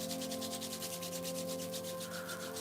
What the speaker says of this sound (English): Rub them together again.